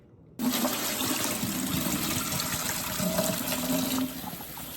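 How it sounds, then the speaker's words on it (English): Tap water streams steadily as shrimp are rinsed under it, a loud continuous splashing rush that starts abruptly and eases slightly near the end. "Now, I'm gonna clean my special ingredients, shrimp."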